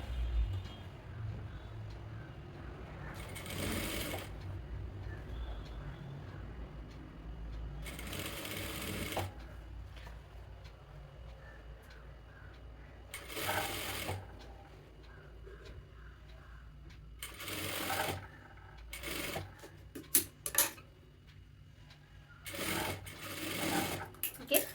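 A sewing machine stitches the armhole of a sleeveless kurti in repeated bursts of whirring, several seconds each with short pauses between, fairly close and steady, with no one talking over the runs.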